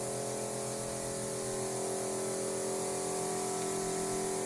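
A Hudson Never Pump 4-gallon backpack sprayer spraying onto carpet gives a steady, continuous hiss of pressurized liquid spray, close and even throughout with no talking.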